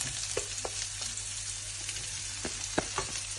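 Sliced onion added to a pan with ginger and garlic for spicy pork curry, sizzling steadily up close with a few sharp stirring clicks and spatula taps, no talking.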